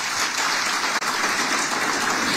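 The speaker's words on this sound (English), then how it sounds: "we can just appreciate them with one clap." Audience applause at a pension convention in Mombasa, a dense burst of many people clapping together, loud and continuous for a couple of seconds with a brief dip in the middle.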